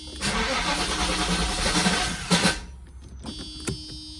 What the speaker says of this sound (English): this is just starting the car in the morning